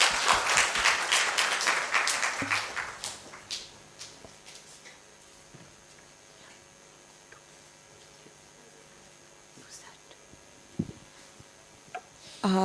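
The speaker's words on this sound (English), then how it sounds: "A round of applause for her" Applause at an academic session, loud and dense at first, then fading quickly after a few seconds into a quiet hall with a few scattered knocks.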